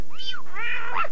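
A human voice imitates a cat with two quick, high, wavering meows, close and clear, alone with no other sound.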